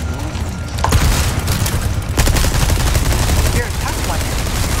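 A thrown explosive in Resident Evil 4 Remake bursts on impact with a loud booming blast amid continuous combat noise, followed by a second heavy thud and brief voices in the background.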